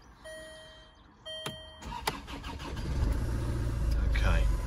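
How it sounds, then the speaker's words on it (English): A Land Rover Freelander 2 engine cranks briefly after some clicks and whirs, then catches and settles into a low, rising idle that grows steadily louder. "let's start the car"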